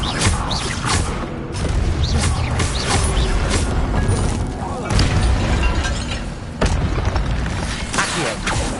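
Levioso and Incendio spells cast in Hogwarts Legacy: loud, busy bursts of magical whooshes, mechanical clanks and booming impacts in quick succession, with no gaps between effects.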